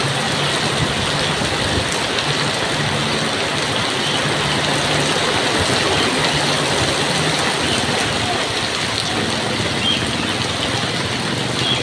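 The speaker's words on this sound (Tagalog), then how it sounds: "Lakas pa rin ang ulan." Steady heavy rain pours continuously, a dense even hiss with a faint low rumble underneath and no voices.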